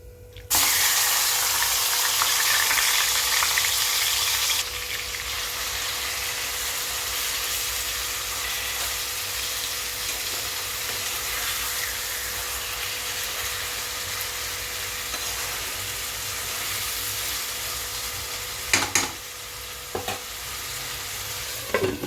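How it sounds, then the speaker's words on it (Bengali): Marinated chicken pieces hitting hot oil in a pan for chicken pulao, a loud continuous sizzle with stirring scrapes, bursting up at the start then settling into a steady fry with a few sharper clanks near the end. "এবার আমি ম্যারিনেট করা মাংসটা দিয়ে দিচ্ছি"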